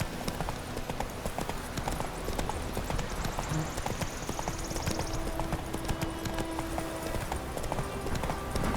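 Roach the horse gallops in The Witcher 3, rhythmic hoofbeats pounding steadily and close throughout, with a brief whinny in the middle and faint game ambience beneath.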